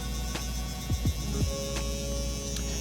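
A hair trimmer fitted with a 1mm guard hums steadily while fading a beard during a self-cut, a continuous close-up motor drone with no talking.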